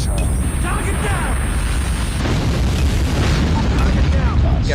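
A nuke detonates in Call of Duty Mobile, a sustained loud roaring blast that fills the whole stretch with dense rumbling noise and crackle, with game voice callouts faintly underneath.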